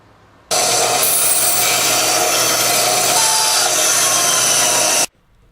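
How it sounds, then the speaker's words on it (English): A bandsaw cuts out a knife handle profile in one steady, loud, high-pitched whine and rasp that lasts about four and a half seconds, starting abruptly and stopping abruptly. "Next, I trace on the handle profile and cut it out on the bandsaw."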